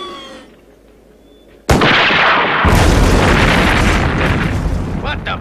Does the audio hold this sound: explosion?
yes